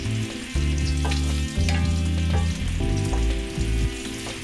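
Pieces of meat browning in a hot pan sizzle and crackle steadily, the frying loud and continuous as they are turned to color each side for a Korean comfort dish made with Italian ingredients.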